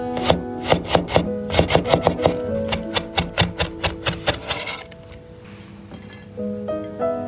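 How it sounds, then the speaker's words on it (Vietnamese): A knife chops shallots on a board in quick, evenly spaced strikes that run for several seconds, then thin out into softer scraping and a few scattered taps. "Một vài tép hành tím thì mình băm nhỏ."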